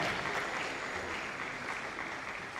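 Audience applause at a college lecture, a dense continuous patter of many hands clapping, fairly even and moderately loud throughout the short stretch.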